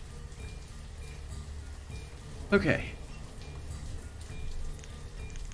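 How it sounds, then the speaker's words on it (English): Steady rainfall in the city-building game Banished, a constant soft hiss running through the whole stretch, with someone briefly speaking over it. "Rain is crazy."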